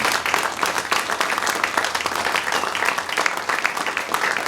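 Studio audience applauding a band after a session: steady, dense clapping with scattered cheers, sustained evenly throughout at close range.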